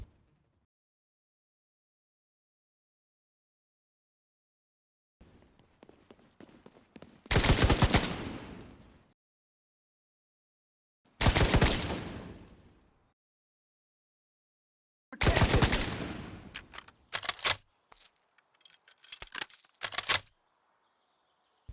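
Bursts of machine gun fire in The Division 2, three long loud volleys with short broken rattles after, set apart by silence.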